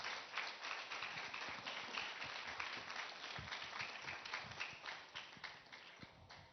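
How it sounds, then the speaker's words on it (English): Conference audience applauding at the Transform Bharat Conclave 2022, a sustained dense patter of clapping from a crowded hall that continues evenly throughout. "Huge round of applause, ladies and gentlemen."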